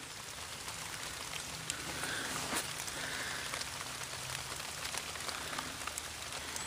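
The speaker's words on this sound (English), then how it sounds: "so it's starting to rain" Rain falls steadily at a campsite, a soft continuous patter of drops on surfaces with occasional sharper drips close by, fairly quiet and without talk.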